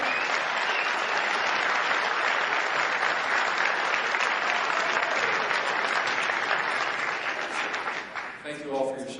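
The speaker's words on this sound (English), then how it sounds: "How about a round of applause for all of our veterans?" A large crowd at a 2016 political rally in Sioux City, Iowa bursts into loud, sustained applause for veterans, holding steady before thinning out as a voice comes in at the end.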